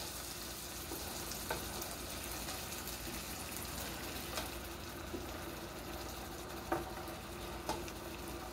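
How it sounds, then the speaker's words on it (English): Stirring milk into a hamburger potato casserole gravy in a pan gives a steady low sizzle and bubbling, with a few soft scrapes and clicks of the utensil against the pan standing out now and then. "We're gonna stir that in, and we're gonna let that soak on off in there."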